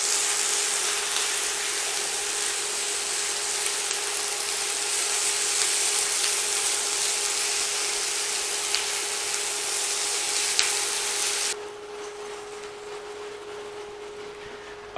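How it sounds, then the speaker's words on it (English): Lean lamb mince browns in a hot pan for shepherd's pie, giving a steady bright sizzle with a faint hum underneath, then the sizzle drops away sharply near the end. "we're going to heat that because we want to brown our meat"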